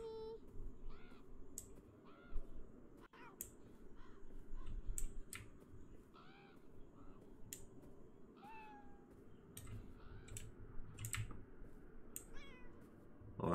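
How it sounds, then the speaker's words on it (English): A cat meows repeatedly in the video game Beyond Eyes, short rising cries spread across the clip over a steady bed of outdoor ambience and occasional bird caws. "Hear the cat."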